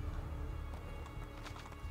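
Horse hooves clip-clop in Assassin's Creed 2, a steady low rhythmic trot beneath continuous game ambience and music, with a person talking over it.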